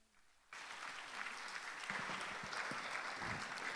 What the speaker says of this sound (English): let's give her a resounding applause